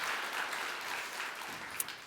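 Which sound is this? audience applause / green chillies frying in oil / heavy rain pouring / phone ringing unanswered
audience applause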